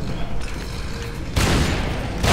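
Boom cannon blasts in the co-op action game Dead Rising 3 during a boss fight, with a loud broad explosion burst landing partway through and another starting right at the end, over dense game noise and some faint voice.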